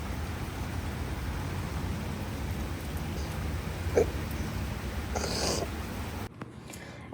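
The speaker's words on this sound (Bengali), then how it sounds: "প্রচণ্ড বৃষ্টি হচ্ছে।" Heavy rain falls as a steady, soft hiss throughout, with a few brief, faint knocks and rustles near the end.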